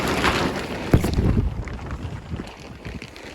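Wind thumps and rumbles against the microphone in uneven gusts, loud at first and then settling into a softer, steady buffeting.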